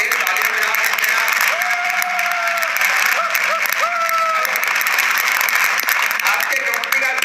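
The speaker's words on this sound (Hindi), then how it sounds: "और तेज तालियों में आप सकते हैं।" A live audience claps steadily throughout a hall event, the dense applause joined by a few sliding whistle-like tones partway through.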